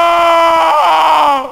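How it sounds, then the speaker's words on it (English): The character Karn in the video game Martian Gothic lets out one long, loud, strained scream that wavers and then cuts off abruptly, heard alone and up front. "That's what Karn sounds like when he screams."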